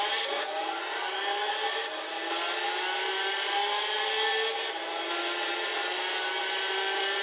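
A Lamborghini Murcielago races in Gran Turismo 6, its engine holding a steady high, whirring drone at moderate volume with slight swells in pitch and no clear crash impact, with no talk.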